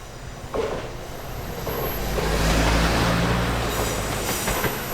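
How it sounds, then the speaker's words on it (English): A fast express train rushes past nearby in Japan, a loud sustained roar of wheels on rails with metallic squeal, building and holding steady. "Oh, that's not the rural one, that's the express train."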